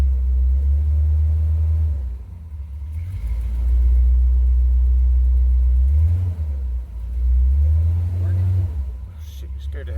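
A 1935 Chevy on a lift runs in drive, a low engine rumble that swells and eases over several seconds, close by, with someone talking briefly over it.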